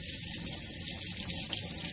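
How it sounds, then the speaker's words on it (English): Tap water runs steadily into a sink while reborn doll kit parts are rinsed, a close, continuous splashing hiss with small fluctuations in the flow and no talk. "So I'm going to finish rinsing this out."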